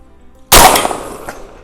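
A single loud, sharp gunshot from a shotgun firing a slug at a 200-metre target at a shooting range, a sudden close blast that decays quickly after a quiet lead-in.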